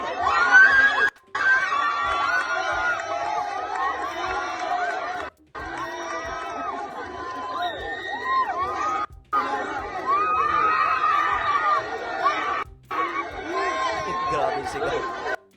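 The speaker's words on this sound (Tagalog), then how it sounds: "Grabe sigaw." A dense crowd at a political rally in Cebu shouts and cheers continuously and loudly, a roaring mass of voices with a few brief cuts in the sound.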